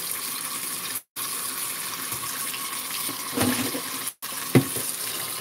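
Hot water pours steadily from a tap into a bathtub over clothes laid on a rack, a constant close rushing splash with two brief cutoffs and a couple of small clunks.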